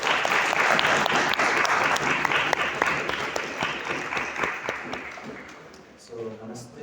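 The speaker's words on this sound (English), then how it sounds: "please with a huge round of applause" An audience applauds to welcome a professor, many hands clapping loudly at first and then thinning and fading, as a voice begins speaking near the end.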